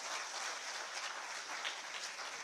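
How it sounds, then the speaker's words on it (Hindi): Audience applause at a job appointment-letter distribution ceremony in Jharkhand, a faint, distant, continuous patter of many hands without pauses. "जोरदार तालियां।"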